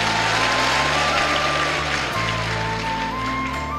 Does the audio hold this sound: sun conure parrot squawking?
no